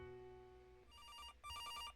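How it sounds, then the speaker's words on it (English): Telephone in the video game Reminiscence in the Night starts ringing with electronic trilling bursts, a short pause between two rings, over a low musical tone. "As you approach it, the phone starts ringing."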